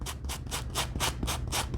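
Denim fabric being sanded by hand to distress it, about eight rhythmic rasping strokes in quick succession, close and fairly loud.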